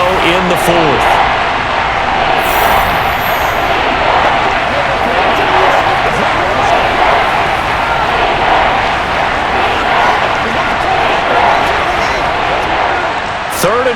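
A Madden NFL 23 stadium crowd at a Rams versus Seahawks game roars in a steady, loud, dense wash of noise that never lets up, with a commentator talking over it.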